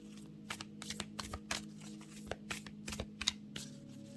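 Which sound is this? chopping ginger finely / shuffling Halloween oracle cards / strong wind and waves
shuffling Halloween oracle cards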